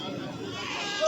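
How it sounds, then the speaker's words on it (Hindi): A goat bleats briefly at a busy goat market (bakra mandi), the cry rising near the end under ongoing conversation between people. "माशाल्लाह एक खीरवा बकरा है जी"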